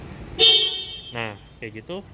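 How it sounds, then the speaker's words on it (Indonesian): Horn of a Mitsubishi Pajero Sport Dakar 4x2 SUV: one longer honk, then a short pause and three quick shorter toots, close and fairly loud, with someone speaking briefly between them. "Untuk klakson bunyinya begini."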